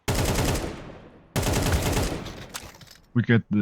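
Gunfire from the video game Counter-Strike comes in two loud rapid bursts of automatic fire, each trailing off. Two short sharp shots follow near the end.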